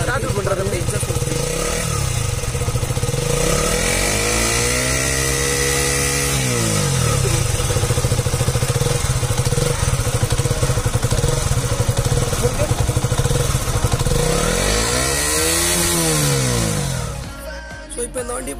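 A KTM Duke 125 motorcycle's exhaust drones steadily while riding at normal speed, its pitch rising and falling with throttle changes, with someone talking over it throughout.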